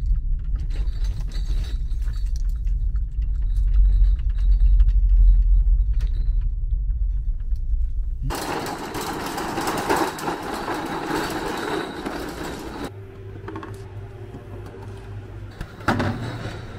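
Seat Mii Electric small electric car on a drive to a drinks market: steady low cabin rumble for several seconds, then louder broad road and wind noise, settling into a quieter hum with a faint tone, no talk.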